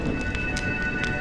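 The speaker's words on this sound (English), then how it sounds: "When will this rain ever stop?" Steady rain falls in a Honkai Star Rail cutscene set in Penacony, a continuous soft hiss with faint drop spatters and occasional brighter bursts, no voices.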